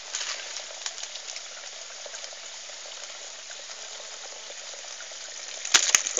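Filtered liquid jivamrut, a farm-made organic fertiliser, runs out of a filter outlet in a soft, steady trickling stream, quiet and continuous, with a couple of sharp clicks near the end.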